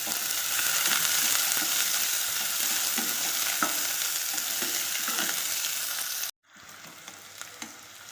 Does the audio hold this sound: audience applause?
no